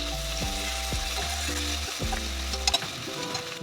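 Chopped tomato sizzling and frying with onions in a pot during home cooking of a one-pot chicken gravy, a steady close crackle with occasional stirring clinks and no talk.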